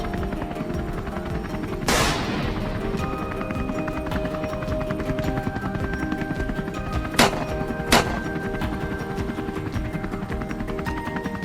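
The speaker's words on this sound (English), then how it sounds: "shots rain down from the helicopter above" Three sharp gunshots ring out from a helicopter during a wild boar hunt over farmland, one alone and then two close together, each cutting through the steady, loud drone of the rotor.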